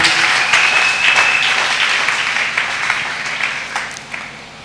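A church congregation claps in loud, dense applause that stays steady, then slowly fades toward the end, with no talk over it.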